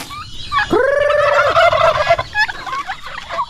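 Turkeys gobble loudly and close by at feeding time as yellow corn mixed with feed is given, one long warbling gobble followed by shorter calls, with no talk.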